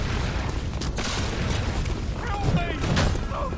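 Enemies fire guns in the Bloodborne video game, sharp booming shots and pops ringing out amid busy clatter, with fairly loud, scattered blasts and no talking.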